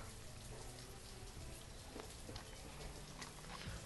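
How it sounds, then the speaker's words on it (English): Steady rain falling in the Banished city-building game, a continuous dense patter of drops at even loudness throughout, with no voice over it. "That's why it rains far too much."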